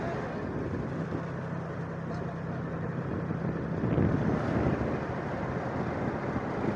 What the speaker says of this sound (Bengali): কিয়ারে পড়ে যাচ্ছে এই নৌকা, কত স্পিডে ছুটছে